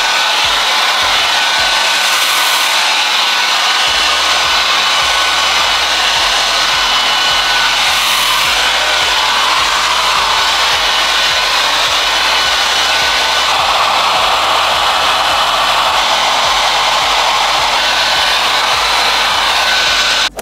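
Dual voltage blow dryer drying hair, a loud, steady, close airy roar running continuously with slight shifts in tone as it moves, with no talking.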